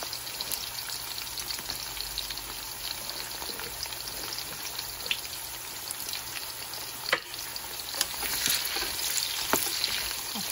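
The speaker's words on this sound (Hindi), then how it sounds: "और इसके अंदर शैलो फ्राई करूंगी सारे करेलों को" Bitter melons shallow-frying in oil give a continuous close sizzle and crackle, with scattered sharper pops and a slight swell near the end, no voices.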